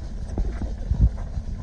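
Hooves of an old male horse clip-clop on a farm in an uneven walking rhythm, several close, soft thuds over a low background rumble.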